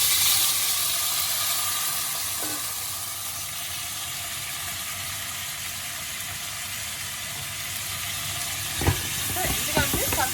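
Chopped tomatoes sauté in a pan, giving a steady, close, hissing sizzle throughout, with a few clinks and stirring knocks near the end.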